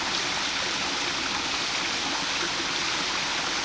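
Creek cascades rush below an arch bridge at Chimney Rock Park, a steady, loud wash of tumbling water with no voices over it.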